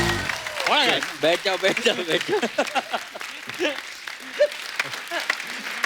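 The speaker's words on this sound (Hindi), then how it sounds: "हमारे सब सुपरस्टार्स के लिए जोरदार तालियां।" Studio audience applause on a Hindi television comedy talk show runs as a moderate background of clapping while someone talks loudly over it throughout.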